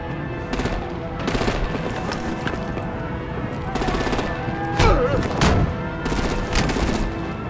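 Video game battle with dense bursts of machine-gun fire and heavier booming blasts, loud and continuous, with a voice shouting over the combat.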